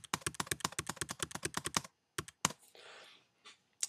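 Rapid keystrokes on a computer keyboard, about twenty quick, close clicks in an even rhythm, then a pause and a couple of isolated taps with a soft rustle.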